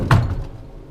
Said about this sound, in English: when I open this door